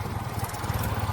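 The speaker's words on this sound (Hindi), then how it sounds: "इधर से ट्रैक्टर आ रहा है" A tractor engine chugs close by along a road in rural Supaul, Bihar, a steady throbbing low rumble, moderately loud with no talking.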